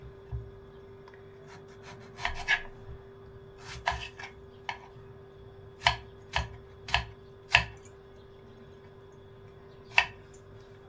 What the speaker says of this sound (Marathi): टोमॅटो चिरून घेऊ।